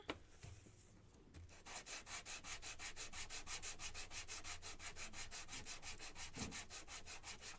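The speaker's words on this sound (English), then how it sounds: "So that one is sanded. Let's do this one." A piece of a wooden swinging bunny DIY kit is sanded by hand, a steady rapid back-and-forth rasp of roughly four strokes per second that begins after a short pause and runs close and even, with no speech.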